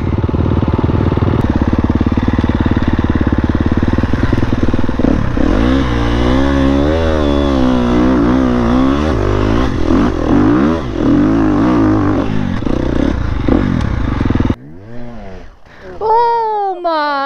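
A motorcycle engine drones loud and close during a ride, rising and falling in pitch as it revs, with people talking over it before it cuts to quieter speech near the end.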